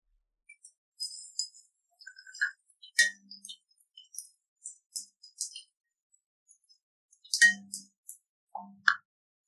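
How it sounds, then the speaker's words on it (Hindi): Fennel seeds dropped into a pan while making spiced gram-flour filling for mini besan kachori, giving a few light scattered clinks and pattering taps with quiet gaps between, close and soft, no talk. "अब हम सौंफ डालेंगे"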